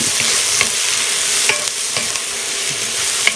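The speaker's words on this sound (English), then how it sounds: "I'm going to stir fry this for about another 45 seconds to a minute" Beef, broccoli and mixed vegetables stir-frying in a hot pan, giving a loud, steady hiss and sizzle broken by occasional scrapes and clinks of the stirring utensil, close up, with no voices.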